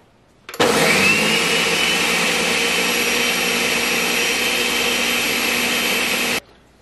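A Ninja blender blending basil pesto with olive oil. It switches on sharply, holds a loud, steady whirring roar for about six seconds, then stops abruptly.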